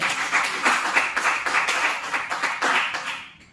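A school audience claps after a teacher's presentation, a brisk run of distinct hand claps that sounds moderately close, then tapers and fades out near the end.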